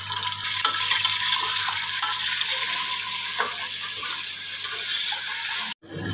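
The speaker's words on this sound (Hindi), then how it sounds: "तो सबसे पहले मैं गोश्त फ्राई कर लूँगी" Pieces of gosht (meat) fry in a pan with a loud, steady, close sizzle and crackle, continuous throughout before a sudden brief cut near the end.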